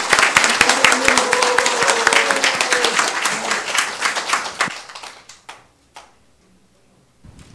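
Audience applause at an indoor public debate forum, a dense crowd of clapping hands, loud and sustained before thinning out into scattered final claps.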